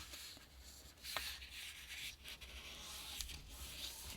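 Paper being folded right to left to make a small notebook: quiet soft rubbing and creasing with a few sharper crinkles, no talking.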